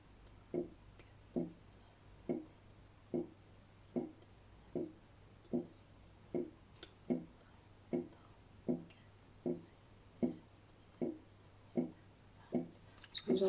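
A dishwasher runs nearby, its rotating spray arm sending a steady, evenly spaced series of soft knocks and rattles from the dishes inside, about one every 0.8 seconds, over a low constant hum.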